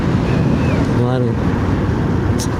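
Rushing white water during the rainy season, a loud, close, steady roar that fills the whole clip while someone speaks briefly over it.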